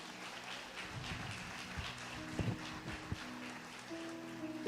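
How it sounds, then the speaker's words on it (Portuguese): A church congregation applauds during a sermon in a steady, dense patter that sounds somewhat distant and muffled. "Aplaude Ele por isso, aplaude."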